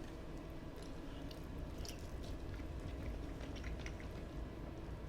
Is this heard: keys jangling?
no